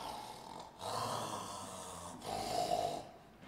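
A person imitates snoring, with two drawn-out rasping snores separated by a short pause, close and fairly quiet.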